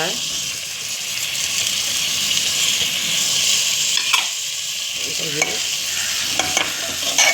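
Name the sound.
sautéing moong and toor dal in a pan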